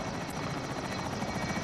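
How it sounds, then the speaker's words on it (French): Helicopter in Call of Duty Warzone Plunder, a loud, steady rotor thrum with rapid blade chop filling the brief moment alone. "Il prend l'hélicoptère."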